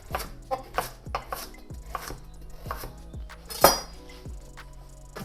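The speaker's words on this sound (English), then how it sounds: "Just roughly chop into small pieces." A knife roughly chops a single carrot into small pieces on a board, about a dozen close, sharp knocks in an uneven rhythm, one landing noticeably harder.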